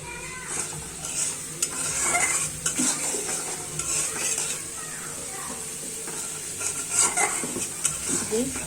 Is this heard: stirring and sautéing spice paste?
yes